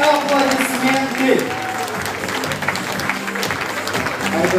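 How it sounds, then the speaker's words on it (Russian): Audience at a Crimean Tatar radio show finale breaking into steady, close applause, a dense, even wash of clapping that holds for several seconds with murmurs of crowd noise mixed in. "Под ваши бурные аплодисменты."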